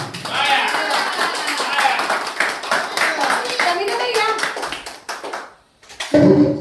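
Family members clap for an aunt's 60th birthday celebration at home, a steady run of hand claps mixed with overlapping talk and a voice, fading briefly near the end before a final burst.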